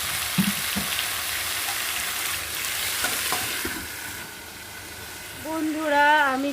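Pumpkin pieces sizzle and fry steadily in a covered pan, a continuous broadband hiss with a few faint clinks, while a voice speaks briefly near the end.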